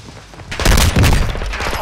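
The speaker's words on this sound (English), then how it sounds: "Oh, somebody's running and shooting." Loud bursts of gunfire in a Call of Duty Warzone Plunder match, a short cluster of close, heavy shots following a quieter stretch, with a voice faintly mixed in.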